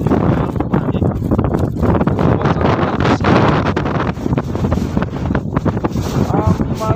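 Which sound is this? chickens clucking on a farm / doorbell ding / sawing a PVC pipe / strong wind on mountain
strong wind on mountain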